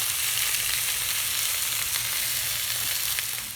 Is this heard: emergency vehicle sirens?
no